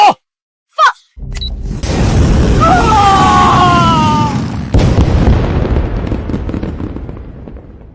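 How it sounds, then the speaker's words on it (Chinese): A loud rumbling blast of fireworks set off as a cruel act of revenge builds into a sustained roar with a whistling streak and a sharp crack, then slowly fades out. "你父亲不是想看烟花吗"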